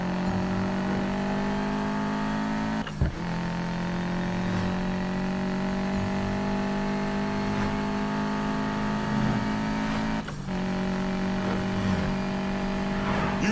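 Racing cars in The Crew video game speed toward an airfield, their engines holding a loud, steady, high-pitched drone for the whole stretch, with two sharp knocks breaking through along the way.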